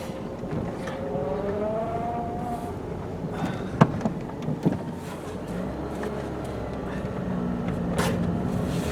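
A 2006 Citroen C4 1.6 petrol with a suspected worn offside front wheel bearing is driven on a road test at about 40 mph, a low, steady road and engine hum with a faint rising whine and occasional clunks, under some talk.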